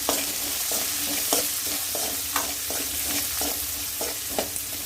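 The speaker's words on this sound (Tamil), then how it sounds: "ஒரு கொத்து கருவேப்பிலை போட்டு ஒரு வதக்கு வதக்கி விட்டுக்கலாம்" Green chillies and curry leaves sautéing in a pan for brinjal tamarind curry, with a dense continuous sizzle and a spoon scraping the pan in a steady, regular rhythm.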